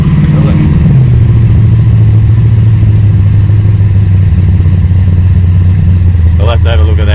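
Engine of an LS-swapped car running loud and steady at a high idle, the throttle sticking so it hangs up in revs; a voice speaks briefly over the rumble near the end.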